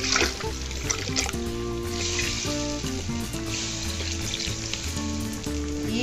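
Chicken wings frying in a pan with sauce as a bit more water is added, a loud continuous sizzle with bubbling and stirring throughout, no talk.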